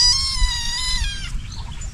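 Goat bleats in a quavering, tremulous call lasting about a second, fairly close and clear over a low rumbling background, then fading into softer noise.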